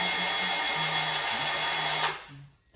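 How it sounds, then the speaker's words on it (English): A cutoff wheel grinds steadily through metal while working on an LS engine build, a loud, continuous high whine with a low motor hum beneath, lasting about two seconds before spinning down and trailing off. "I'll go get the death wheel, cut this out"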